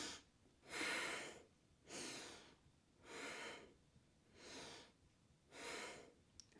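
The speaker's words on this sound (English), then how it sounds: "just 5 deep breaths" Five slow, deep breaths during a yoga pose, each a soft airy rush of inhale or exhale rising and fading in an even rhythm, close and fairly quiet with no talking.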